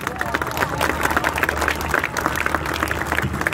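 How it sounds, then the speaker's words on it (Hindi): Audience applause at a poetry mushaira held at Nishtar Park, a dense wash of clapping mixed with crowd murmur that runs steadily for a few seconds with no single voice standing out. "मेरे खुशौक बाशऊर सामीन अपने लिए तालियां बजाएं, मैं भी साथ दूंगा।"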